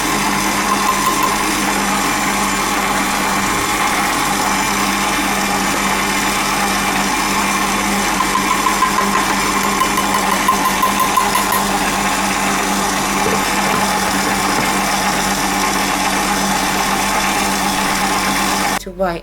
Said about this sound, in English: now I'm going to mix in the flour and the almonds